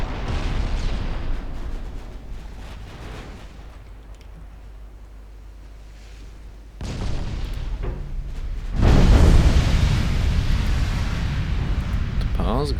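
Naval gunfire in the Ultimate Admiral Dreadnoughts video game, with deep booms and rumbling blasts building to a loud, sustained barrage near the end, heard under game ambience with a voice talking over parts.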